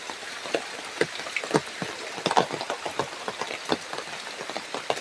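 Rain falls on a surface with an irregular patter of sharp, close drops tapping steadily against faint background noise, and no voices.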